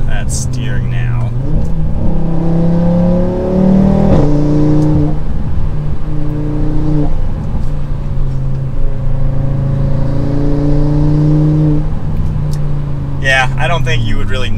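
An 8Y Audi RS3 engine pulling hard uphill on the road, a steady, rising drone with gear-change dips heard from inside the cabin, while people talk over it throughout.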